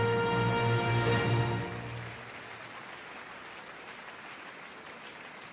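A large arena crowd at the Crufts dog show applauds international agility handlers, the clapping steady under a fading musical tone at first, then continuing alone as a broad, even wash.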